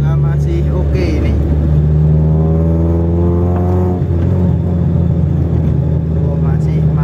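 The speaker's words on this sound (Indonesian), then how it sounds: "Tarikan mesin juga masih oke ini." A 2000 Toyota Soluna, lowered, drives with a steady, loud engine drone that rises and eases while accelerating, heard from inside the cabin with no voices over it.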